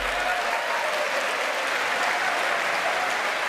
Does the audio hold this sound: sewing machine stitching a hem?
no